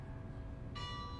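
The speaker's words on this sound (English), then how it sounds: "The bells, church bells." Church bells ring softly at a distance, a sustained tone joined by a brighter second bell strike partway through, alone over a low outdoor rumble.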